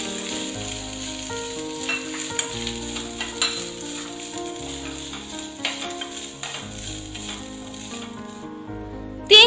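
Cashew nuts frying in a pan with a steady bright sizzle, punctuated by occasional clicks and scrapes of stirring, ending with a sharp louder rattle; no voices.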